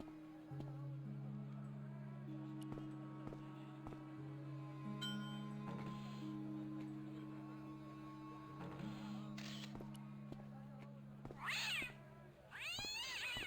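A cat gives a few short, close meows near the end, over a quiet background with a steady low hum.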